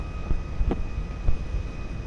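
Airliner touching down in GTA, with a steady low engine rumble and reverse-thrust roar as the wheels meet the runway, broken by a few soft thumps.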